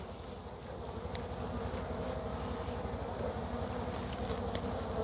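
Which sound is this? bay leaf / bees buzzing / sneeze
bees buzzing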